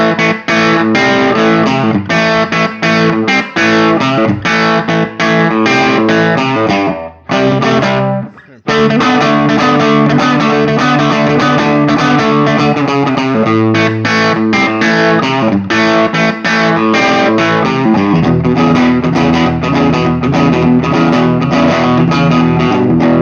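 Distorted electric guitar through Gibson Custombucker pickups with the bridge pickup blended in, on a Gibson Trad Pro V with a mahogany top, playing loud chords and riffs with one brief pause and a sustained ringing finish.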